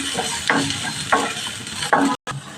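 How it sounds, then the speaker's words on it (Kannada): Onion and garlic fry in a pan with a constant crackling sizzle, broken by three spoon scrapes that come at a steady pace and a short cut to silence near the end. "ಇದೆಲ್ಲ ಹುರ್ಕೋಬೇಕು ಸ್ವಲ್ಪ ಚೆನ್ನಾಗಿ"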